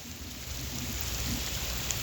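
Steady rain falls outdoors on Woodside Green in Britain, a dense, even patter on surfaces that continues throughout without talk.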